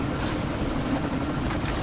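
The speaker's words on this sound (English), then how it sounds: "What am I supposed to do with a chopper?" A helicopter's rotor and engine roar steadily and loudly in the Deus Ex: Mankind Divided video game, a dense continuous drone with no talk over it.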